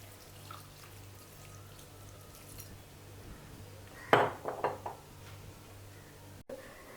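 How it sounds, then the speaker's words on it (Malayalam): Water is poured over chopped pineapple with chili powder, turmeric and green chilies in a pot, a brief splashing gush midway in a quiet kitchen with a low background hum and a few faint clinks. "ഈ അരിഞ്ഞു വെച്ചിരിക്കുന്ന പൈനാപ്പിളിൽ ആവശ്യത്തിന് മുളക് പൊടി, മഞ്ഞൾപ്പൊടി, പച്ചമുളക്, ആവശ്യത്തിന് വെള്ളവും ഒഴിച്ചിട്ട്"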